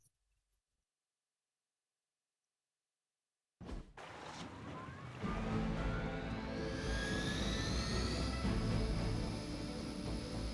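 Helicopter lifting off in a Marvel video game: after a brief silence the rotor and engine roar starts abruptly and builds into a loud, steady whine with a rising pitch, heard alone with no talking.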